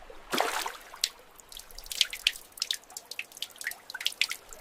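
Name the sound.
water dripping from a burst pipe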